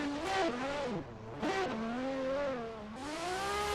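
A drift car launching hard off the start line during qualifying at the Nürburgring, its engine revving up and down through sharp pitch sweeps with tyre noise, close and loud, no talk.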